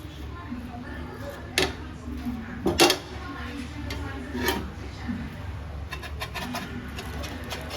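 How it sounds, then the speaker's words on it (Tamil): A knife cuts through a freshly toasted homemade sandwich, giving a few sharp taps and crunchy clicks against a plate or board, with a person speaking quietly in the background. "இப்போ கட் பண்ணிக்கலாம்"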